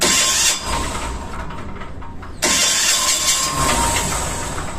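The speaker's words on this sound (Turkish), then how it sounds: "Dizel yangın pompası arkadaşlar." The diesel emergency fire pump engine on a ship runs loud and close, briefly dips, then surges back to a steady rough roar, with no speech.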